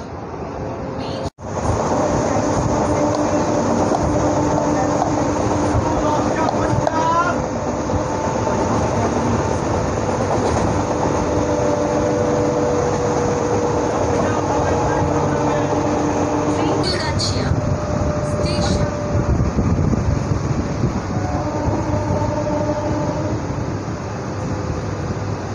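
A MEMU passenger train runs on rails between Santragachi and Jhargram, heard from inside the coach as a loud, continuous rumble with wheel clatter. Voices talk over it throughout.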